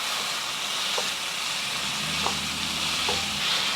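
Lean ground beef, about 1.5 pounds, frying in a pan, giving a steady, moderately quiet sizzle with a few faint clicks of stirring and no talk.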